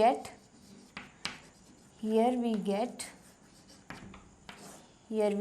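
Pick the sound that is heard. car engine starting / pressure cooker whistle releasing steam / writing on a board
writing on a board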